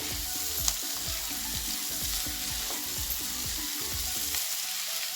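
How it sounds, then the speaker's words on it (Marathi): Fried potatoes and cauliflower being gently mixed in a pan for a home-style pea and potato sabzi, a steady sizzle of hot oil with repeated soft scraping strokes of the spoon, close and alone with no talk. "आणि मग तळलेले फ्लावर घालायचे. हे बटाटे छान हलक्या हाताने मिक्स करायचे आपल्याला."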